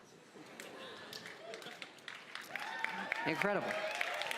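Audience applause and cheering at the Bethesda E3 2018 presentation, a steady wash of clapping that swells slightly toward the end, with a voice speaking briefly over it.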